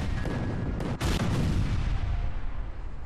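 A grenade detonation in Worms lands as a loud blast about a second in, settling into a dense rumbling roar that fills the rest of the moment, with no voices.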